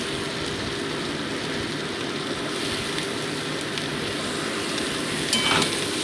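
Eggplant, bean pieces and small chapila fish fry in a pan with a steady, dense sizzle and crackle that runs unbroken throughout at an even level.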